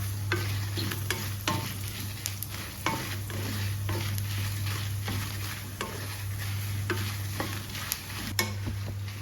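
Whole coriander seeds sizzle and crackle steadily in a hot pan for a Kerala-style tuna curry, with repeated sharp spoon scrapes and stirring knocks over a constant frying hiss; no voices.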